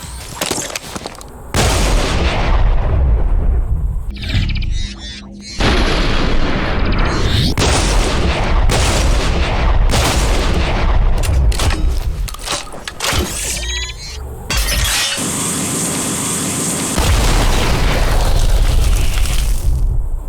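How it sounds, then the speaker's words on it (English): Boneduster quad-barrel shotgun in the video game Bulletstorm, firing and charging up: loud, thunderous blasts and booms one after another with brief drops between them, dense and close, with game combat noise around them. "The Boneduster is a quad-barrel, charge-up shot-capable, thunderous machine of death."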